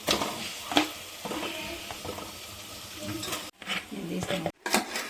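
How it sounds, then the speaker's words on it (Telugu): Marinated chicken is stirred in a sizzling pan, with a spoon scraping and clinking against the metal over a steady fry, broken by two brief silent cuts. "మ్యారినేట్ చేసిన చికెన్ ఇందులో వేసుకొని కలుపుకోవాలి"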